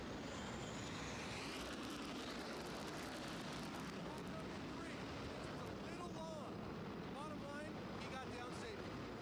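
A jet landing on the flight deck of the aircraft carrier USS Ronald Reagan, heard as a loud, steady broadband roar of engine and wind across the whole clip, with voices faintly mixed in.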